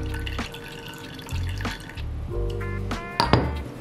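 Wine pours from a Coravin wine dispenser in a Hong Kong apartment in a thin, dripping trickle with light clinks of glass, growing into a brief splashy burst near the end, close and fairly quiet.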